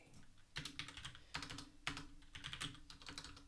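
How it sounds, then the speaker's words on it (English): Rapid clattering keystrokes on a new computer keyboard, close and steady, in quick bursts with brief pauses between. "New keyboard. Hard to type."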